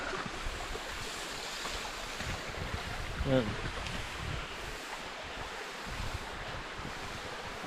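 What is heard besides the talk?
spring water flowing from under a rock at mountain foot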